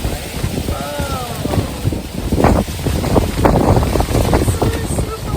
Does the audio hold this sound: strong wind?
yes